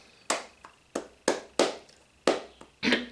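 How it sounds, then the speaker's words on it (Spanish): Muted, dull flamenco palmas sordas: six soft cupped handclaps spaced unevenly with short pauses, close by and without talking. "Estos son palmas sordas."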